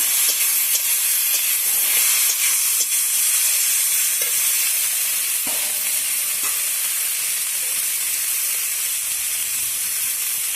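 Potatoes and a tomato fry together in a pan, a loud, continuous close-up sizzle and hiss with a few stirring knocks scattered through.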